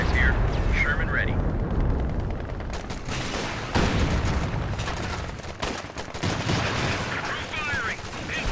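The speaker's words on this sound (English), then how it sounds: "Precision strike is ranged and inbound." Precision artillery strikes land in Company of Heroes 2 amid a busy battlefield. Repeated sharp blasts and bursts of gunfire crackle over a constant rumble, and game voices call out between the impacts.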